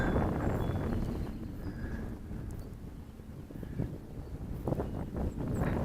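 Gusty wind blows outdoors, buffeting the microphone with a continuous low roar that swells and dips slightly throughout.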